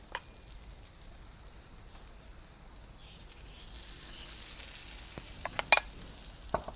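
Rava batter spread over a potato mixture roasts in a pan on a low flame, giving a faint, steady sizzle with a few soft clinks and scrapes near the end.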